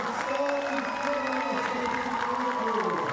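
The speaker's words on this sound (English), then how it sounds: "And hear a cheer, so that suggests he might have scored very well." Crowd cheering at an artistic gymnastics World Challenge Cup event final in Koper after a routine, a sustained roar of the arena audience beneath steady tonal background music.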